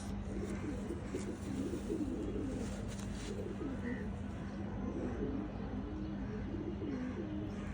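A female pigeon of an old breed coos softly and repeatedly in low, rolling phrases against a steady background hum, faint and fairly close.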